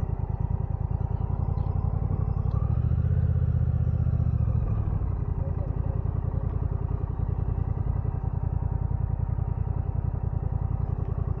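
Motorcycle engine running steadily at close range on a touring stop in Shikoku, a continuous rumbling idle with a brief louder swell early on, no talk over it.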